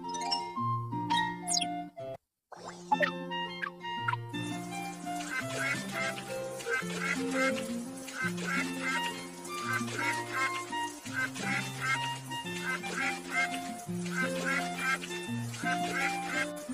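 Cartoon duck quacks in a children's animal hospital cartoon, heard as short nasal calls near the start, followed by a brief gap and then bouncy, chiming background music that runs throughout, with a voice occasionally speaking over it.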